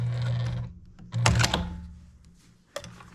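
A sewing machine stitches a beginner sampler quilt, with a steady mechanical hum that stops, followed by a short burst of clattering and a final thunk nearby.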